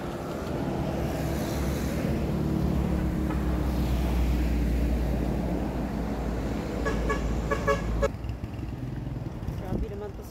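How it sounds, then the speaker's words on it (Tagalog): Car horns honking on a busy roadway near an overpass in the Philippines, several toots over rumbling passing vehicles and engine noise, loud and close; a voice talks briefly over the traffic. "Grabe naman to si Kuya magbusina"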